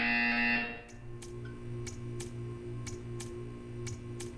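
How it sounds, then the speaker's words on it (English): A buzzer in the Portal 2 video game sounds loudly for about half a second and stops, followed by a soft, regular ticking that repeats steadily over a low hum. "When you hear the buzzer, stare at the art."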